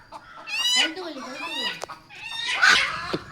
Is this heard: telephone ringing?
no